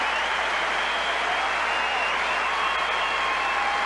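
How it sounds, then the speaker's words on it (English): A tennis stadium crowd at the US Open applauds steadily, a dense, even wash of clapping that holds at full strength throughout with no pauses. "And applauding Jack Brasington as well."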